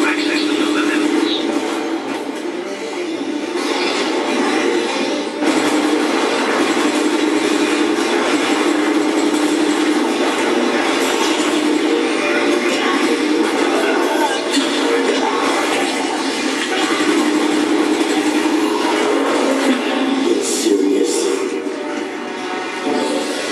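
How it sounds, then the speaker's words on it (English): Train elevator in Resident Evil: Operation Raccoon City rumbling and clanking steadily as it moves, a loud sustained mechanical drone with rattles and occasional metallic hits, with speech heard over it. "You'll have to use the train elevator to access the lower levels."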